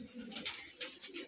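Light biscuit pigeons at a loft coo softly and repeatedly in a close, steady run of throaty pulses, with no other voices.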